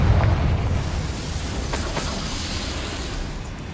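Confringo blasting spell explosion in the Hogwarts Legacy video game: a broad, booming burst at the start that rumbles and decays into a sustained low roar with a couple of crackling pops, no speech.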